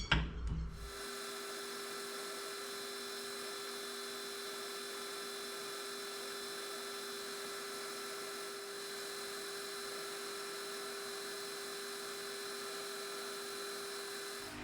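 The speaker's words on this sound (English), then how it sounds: "So I'm going to put a 4 mil hole, 90 mil deep up there now" A drill with a long 4 mm bit whines at a high, steady pitch almost without pause while drilling into metal, starting abruptly after a brief knock and holding level for the whole stretch.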